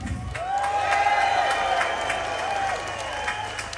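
Crowd applause at an outdoor London anti-grooming-gangs street march, sustained clapping mixed with cheers and a whistle-like tone, loud and continuous throughout.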